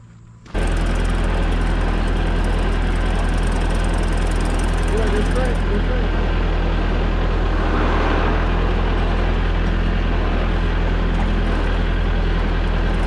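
A tractor engine starts and runs loudly nearby with a steady low rumbling drone throughout, with people talking over it.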